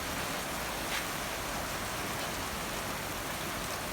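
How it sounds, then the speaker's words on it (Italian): Late-August rain in Sardinia falls as a dense, steady hiss of drops, loud and unbroken throughout with no voices. "ogni tanto piove pure qui"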